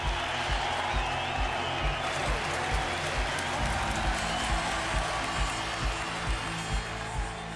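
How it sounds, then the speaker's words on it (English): A large crowd cheers and applauds at a motor race after Nigel Mansell takes the lead of the World Championship. The roar is dense and sustained, with engine-like low rumbles and a voice speaking faintly underneath. "just listen to the crowd!"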